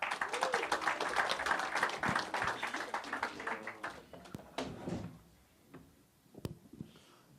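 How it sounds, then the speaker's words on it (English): An audience at a press conference for a city running series claps to welcome a provincial official, with dense applause that thins and tapers into scattered claps and quiet room sounds. "Please, let's give a warm round of applause"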